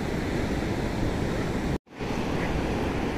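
Ocean waves wash onto Calangute beach in Goa in the early morning, a loud, broad, continuous surf roar mixed with wind noise on the microphone, cut by a brief dropout near the middle.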